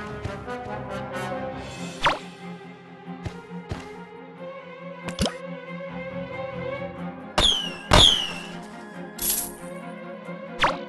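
In the Tom and Jerry Chase mobile game, a mouse is tied to a rocket, heard as bright chiming effects, sharp cracks and rising whooshing squeals over looping game music.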